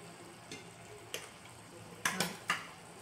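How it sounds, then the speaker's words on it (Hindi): Spoon scraping and clinking against a pan while stirring red chili, coriander powder and garam masala into a pea and eggplant sabzi, a few sharp taps spaced out over quiet cooking hiss, the last three close together and louder. "सब मसाला मिक्स हो जाए इस तरह से हलाएंगे"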